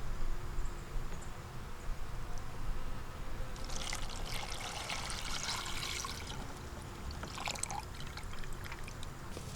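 Sugar syrup for a small nuc of bees trickles and pours in a soft, close stream, with a few brighter splashing bursts midway over steady outdoor background noise.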